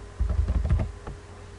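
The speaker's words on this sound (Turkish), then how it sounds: "Ardından yazımızı yazalım." Typing on a computer keyboard while entering text in Photoshop: a brief burst of close, soft clicking keystrokes lasting about a second, with no talking.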